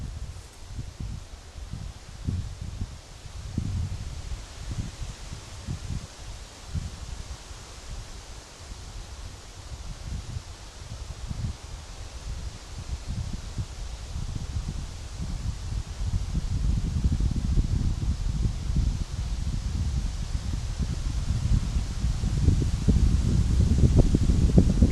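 Strong gusting wind buffets the microphone with low rumbling roars that grow heavier toward the end, over a constant airy hiss.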